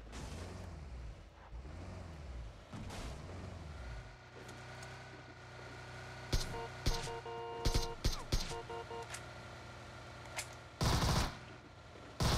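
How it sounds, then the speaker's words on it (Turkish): Fireworks go off near a bridge as distant pops and crackling bursts, sparse at first, then in quicker clusters with a louder volley near the end, faint against low outdoor rumble. "Fişek attılar fişek köprünün arasında."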